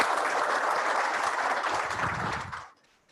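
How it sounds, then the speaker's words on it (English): Audience applause at a company launch event, a dense burst of many hands clapping at a strong, even level that cuts off sharply near the end. "We can give a round of applause for this."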